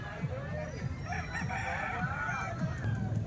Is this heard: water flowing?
no